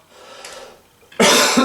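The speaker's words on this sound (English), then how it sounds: "I can't quit coughing." A man with a chest cold coughs once harshly and loudly up close after a quiet stretch of faint room noise, followed by a short second burst.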